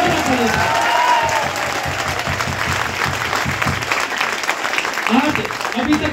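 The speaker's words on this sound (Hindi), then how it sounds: "सम्मान में तालियां बजाइएगा" An audience applauds in honour of a guest at a large Hindi-language gathering, steady dense clapping throughout at a moderate distance, with a voice speaking faintly in the background.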